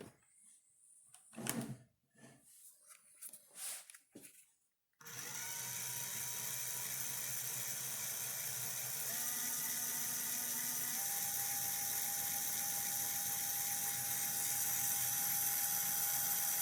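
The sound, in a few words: rod building motor running on a wireless speed controller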